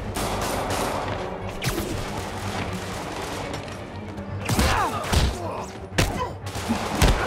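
Enemy gunfire in the Marvel's Spider-Man video game: rapid volleys of gunshots and impact crashes, loud and dense throughout, with sharper bursts toward the end.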